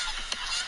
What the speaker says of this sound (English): a flock of geese appear directly overhead